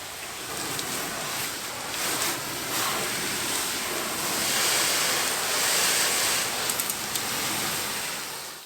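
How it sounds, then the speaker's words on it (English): An air blower dries a rinsed van during a decontamination detail, giving off a loud, steady, rushing whoosh that fills the whole stretch with little change. "I'm not going to wait an hour until it evaporates, so I will blow dry it instead"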